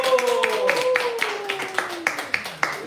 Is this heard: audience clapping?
yes